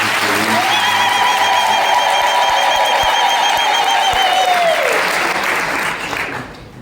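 A church congregation at a jubilee Mass applauds loudly in praise of the Lord, with dense sustained clapping and a long high cry or ululation riding over it, then fading out near the end.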